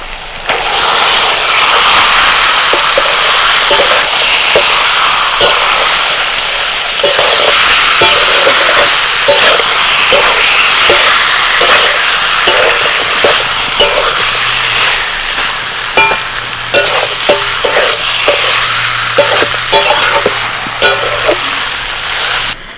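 Marinated chicken dropped into a pan of half-fried onions gives a steady, loud sizzle with broadband hiss and scattered crackles and stirring clicks, continuing without a break.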